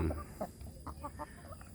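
Domestic village chickens clucking, several short soft clucks and chirps close by at an uneven rhythm, quiet and with no talking.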